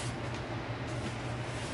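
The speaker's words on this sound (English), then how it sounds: "that noise you hear in the background, that's my furnace running out here" A steady, low mechanical rumble with a soft airy whoosh from a furnace running nearby, droning evenly throughout.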